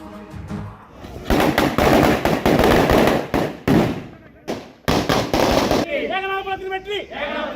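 Firecrackers burst at a celebration by Parandur residents, a loud, dense run of crackling explosions in rapid clusters with brief gaps, followed by tonal sounds as the barrage thins out.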